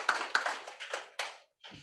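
Brief scattered applause from an audience at a university political symposium, a few quiet claps fading into silence with a short clatter at the end.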